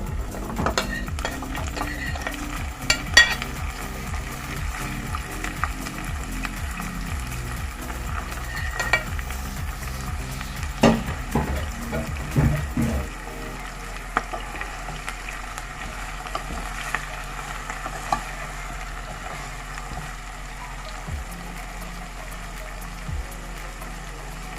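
Beef frying in a pot for Middle Eastern okra stew, a steady close sizzle with repeated scraping stirs over the first half, then continuing to sizzle more quietly and evenly.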